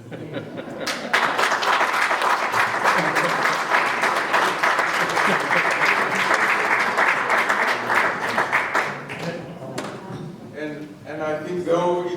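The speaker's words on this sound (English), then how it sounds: "another round of applause I think" A conference audience at a local government event breaks into sustained applause, loud and even clapping that fills about eight seconds before tapering off into scattered claps and murmuring voices.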